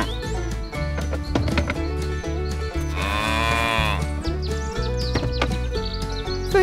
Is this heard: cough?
no